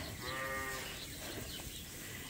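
Ewes with their lambs in a barn bleat, with one clear close bleat early on and quieter stirring of the flock behind it, all fairly faint.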